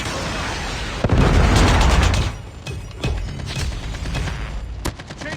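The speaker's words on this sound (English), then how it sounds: "Predator missile inbound." A Predator missile strikes in a Call of Duty match, a loud, close explosion roaring for about a second before fading into scattered gunfire and rumbling battlefield noise.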